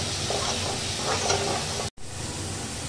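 Prawns frying in hot oil with salt and turmeric, stirred in a pan: a steady close sizzle with scraping stir strokes, broken by one brief silent gap near the end.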